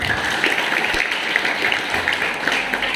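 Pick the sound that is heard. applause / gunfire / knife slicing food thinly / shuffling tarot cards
applause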